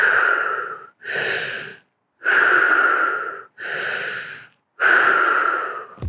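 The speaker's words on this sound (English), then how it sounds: "I hit basically my breathing pace that works the best for me in short windows" A surfer recovering after being caught inside breathes heavily in five long, loud, rasping breaths with short gaps between them, close to the microphone and with no other sound.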